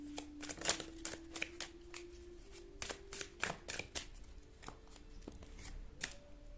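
Tarot cards shuffled and drawn by hand in a quiet room, a steady run of crisp riffling snaps and soft slaps close by, with a faint hum running underneath.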